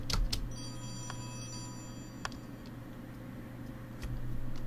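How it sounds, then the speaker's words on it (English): A telephone rings in the video game Oxenfree, giving a few short metallic rings and ticks over a steady low hum. The rings are moderately loud, with quiet stretches between them. "Answer the phone."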